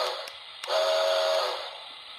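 A Polar Express toy train set controlled by a Lion Chief remote gives a whistle blast, a single steady tonal hoot that swells and fades over about a second, fairly loud and clear.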